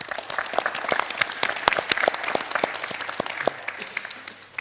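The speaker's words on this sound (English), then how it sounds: "let's give them a round of applause." An audience at a high-level panel on the UN 2023 Water Conference gives the panel speakers a round of applause, with distinct individual claps from a modest crowd that fade toward the end.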